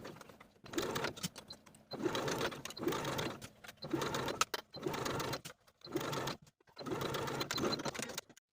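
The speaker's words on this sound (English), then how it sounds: "sew around the bottoms of both sleeves with a 1/2 inch seam allowance" A sewing machine stitches the binding around a jacket sleeve bottom, running in steady motorized bursts of about a second each, separated by brief pauses, close and clear with no talking.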